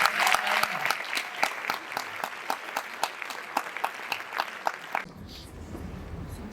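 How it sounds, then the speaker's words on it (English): An audience claps for a speaker at a school inter-house speech competition, with sharp, fairly regular individual claps spread across the room before the clapping cuts off into quiet room tone. "In fact, let's applaud her more."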